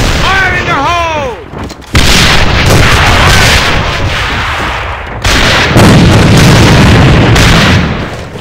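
Grenade explosion in the shooter game AVA, arriving as loud booming bursts amid continuous gunfire and battle noise, with a brief voice-like callout at the start.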